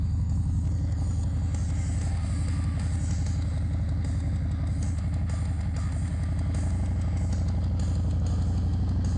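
Continuous low engine rumble and road noise while riding a motorcycle through town at around 30, steady and unbroken with faint wind buffeting and no talking.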